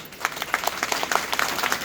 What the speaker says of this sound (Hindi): जोरदार तालियां आप लोगों की।